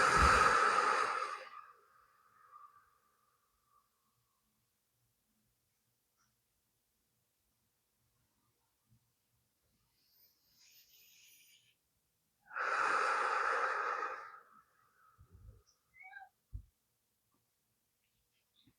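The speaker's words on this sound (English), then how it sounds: "Inhale through the nose, exhale through the mouth." Deep breathing, inhaling through the nose and exhaling through the mouth: two long, loud, close breaths separated by a long silence, with faint rustles after.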